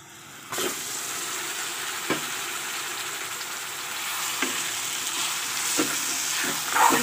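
Marinated meat goes into a pan of browned onions and spice paste, setting off a sudden loud sizzle that holds steady, broken by a few sharp scrapes of stirring.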